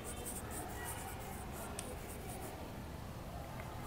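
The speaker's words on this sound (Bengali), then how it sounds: "যেমন দেখো আমি লিখে দিচ্ছি" A pen scratches steadily on paper, writing out atomic numbers during a chemistry lesson. The strokes come in quick, faint, close bursts against a quiet room hiss.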